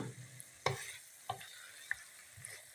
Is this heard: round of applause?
no